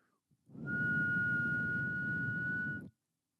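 A single sustained whistled tone held for about two seconds, steady and close, with breathy air noise underneath.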